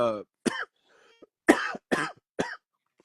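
Several sharp, close coughs in quick bursts separated by short silences, loud and abrupt.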